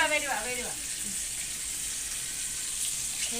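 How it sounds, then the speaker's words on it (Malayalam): Hot oil sizzles with a dense, crackling hiss throughout, spluttering steadily; a brief voice-like tone rises at the start. "തോരൻ അമ്മ കടുക് പൊട്ടിച്ചു"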